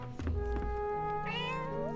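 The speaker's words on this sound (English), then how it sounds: "I can pet the kitty!" A cat meows in a video game demo set around a university garden: one drawn-out, clear meow with a rising-then-falling pitch, close and loud, over steady background game music, with no talking.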